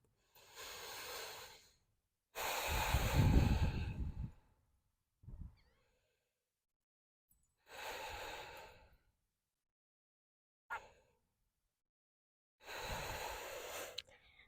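Slow, deep yoga breathing in a forward fold, about three full inhale-exhale rounds separated by silent pauses, each breath long and airy with soft sighing exhales, close and fairly quiet.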